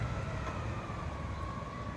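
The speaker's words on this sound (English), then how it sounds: "there's the trash truck that I heard" A trash truck drives down a residential street, its engine a steady loud rumble with mechanical whine, close and continuous with no voices.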